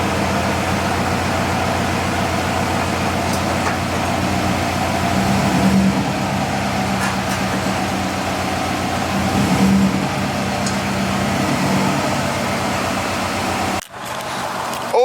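A Subaru STI engine idles steadily up close with a low, even drone, two slight swells in pitch, and a sudden cut near the end.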